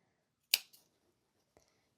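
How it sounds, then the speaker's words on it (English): Sharp scissors snip into the fabric gusset of a sewing-project sling bag: one crisp close cut with a small follow-up click, then a second fainter snip, in an otherwise quiet room. "You need a sharp pair of scissors, and you just want to go in just a little bit."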